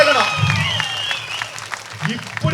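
Applause from an audience at a political speech rattles through as fast, dense clapping, fairly close and sustained, while a voice speaks over it.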